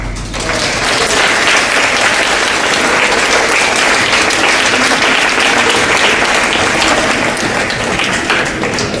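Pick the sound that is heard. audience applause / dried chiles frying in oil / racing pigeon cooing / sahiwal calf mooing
audience applause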